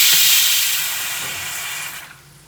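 Curry leaves and whole spices such as cinnamon hit hot oil for tempering, giving a loud crackling hiss that fades over about two seconds, with no voices.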